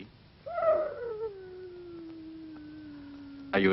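A single wolf howl from the 1961 horror film Werewolf in a Girl's Dormitory rises sharply and then settles into a long, sustained, slowly falling tone lasting about three seconds, carrying clearly over a quiet night background.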